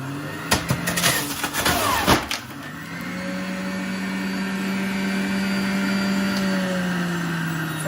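An electric juicer works through a lemon and a small knob of turmeric: a few seconds of rough, clattering bursts as the pieces go in, then a steady, fairly loud motor whine that runs on with no voices.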